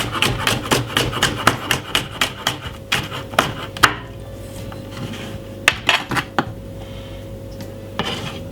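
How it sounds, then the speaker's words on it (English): A knife chopping vegetables into chunks and slices on a cutting board, a steady rhythm of sharp close knocks, then a pause and a few scattered cuts. "Let's cut them into chunks like that, into slices"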